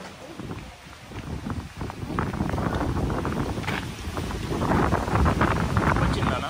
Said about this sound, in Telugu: సన్నీగా ఉంది కానీ చాలా విండీగా ఉంది అండ్ చల్లగా కూడా ఉంది.